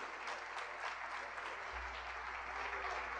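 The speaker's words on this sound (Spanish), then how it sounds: "Le damos un aplauso al Señor" A church congregation applauding during a service: continuous, even clapping from a full room, steady and moderately distant, with a low hum joining underneath partway through.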